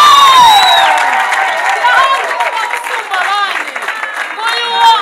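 A crowd at a Rwandan wedding cheers and claps. Loud, overlapping voices rise into shouts and whoops close by, with scattered applause under a voice speaking over them.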